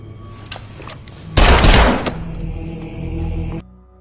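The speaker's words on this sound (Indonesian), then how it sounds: "John datang dengan senjata lengkap menembaki restoran Suruli sampai hancur berantakan" Heavy automatic gunfire tears through a restaurant in a gangster film, a loud dense burst of shots with impacts and debris following, then the din cuts off abruptly.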